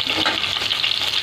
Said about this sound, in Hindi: अब डालेंगे इसमें लहसुन जो हमने चॉप की थी